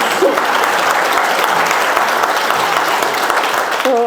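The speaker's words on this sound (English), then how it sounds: "So round of applause for the alpacas and the goats" An audience applauds at a community testimony gathering, a dense, steady burst of clapping from many hands, fairly close and loud, with no talk over it.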